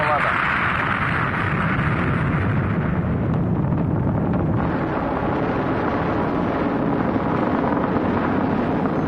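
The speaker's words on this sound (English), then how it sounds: "Liftoff on Apollo 11." Apollo 11 Saturn V rocket liftoff in July 1969: a loud, continuous broadband roar with heavy low rumble and wind-buffeted crackle, steady throughout with no pauses.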